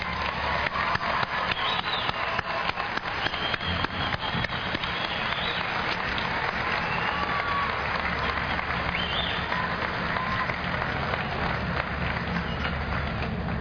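Applause from a graduation ceremony audience at Cleveland State, a steady dense wash of clapping that stays loud and even throughout, with possible faint voices mixed in.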